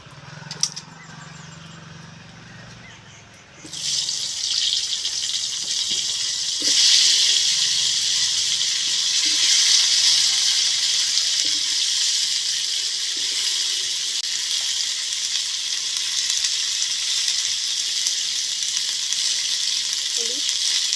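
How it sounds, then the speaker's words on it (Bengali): Cauliflower frying in hot oil for a katla fish curry, a strong steady sizzle that bursts in after a few quiet seconds and keeps going close and loud, with faint stirring under it. "লাল লাল করে কপিটাও আমি এইভাবে ভেজে নিই।"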